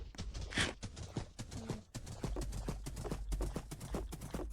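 Horse hooves clip-clop in a steady, quick rhythm in a video game, close and fairly loud, with a constant low rumble underneath.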